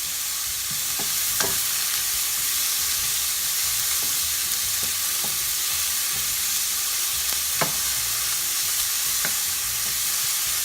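Vegetables with ginger and garlic stir-fried in a very hot pan, a continuous close sizzle broken by sharp scrapes and clinks of the utensil, with no talk.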